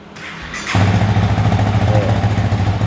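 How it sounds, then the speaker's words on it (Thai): A 2021 Honda Rebel 300 with what appears to be its stock exhaust cranks and catches, then settles into a loud, steady, close-up idle with an even low throb. "เดี๋ยวฟังเสียงท่อคันนี้กัน"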